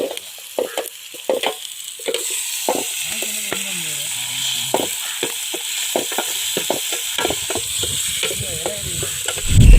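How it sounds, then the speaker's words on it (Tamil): Onion, green chili and tomato sauté in a pan, with steady sizzling under repeated scraping stirs of a spoon, close and moderately loud, plus faint background voices. "எல்லாம் போட்டு வதக்கிறோம்"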